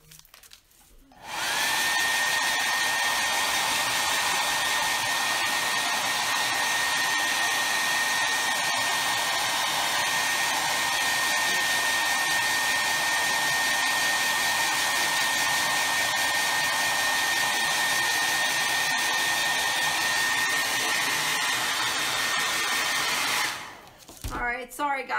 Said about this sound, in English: I know there's a lot of hair dryer used in this project because this paint just does not like to dry too quickly